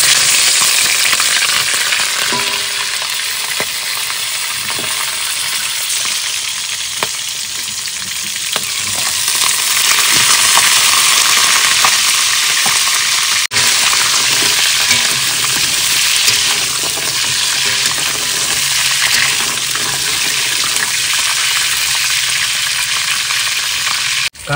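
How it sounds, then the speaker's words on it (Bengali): Tiger crabs fry in hot mustard oil in a wok, giving a loud, continuous sizzle and crackle with occasional stirring scrapes and no voices. "তেল গরম হয়েছে, এবার কাঁকড়াগুলো ভেজে নেব।"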